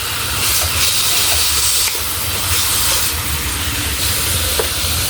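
Cooking oil for ginisang monggo sizzles loudly in a pan nearby, a dense, constant hissing crackle that holds steady throughout with no talking.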